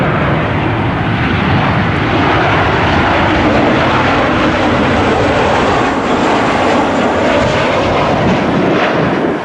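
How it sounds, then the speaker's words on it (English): A Boeing 737-800 airliner in special Star Wars livery arrives inbound at Cleveland airport, giving a loud, steady broadband engine roar that sustains throughout with a slight swell mid-pass, under gusty wind and no talking. "737-800 inbound from Orlando, MCO."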